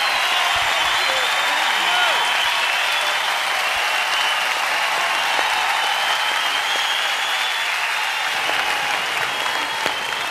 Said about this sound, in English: Please applaud and thank these wonderful, talented artists